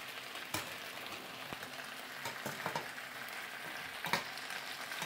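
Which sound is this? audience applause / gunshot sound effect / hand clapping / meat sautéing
meat sautéing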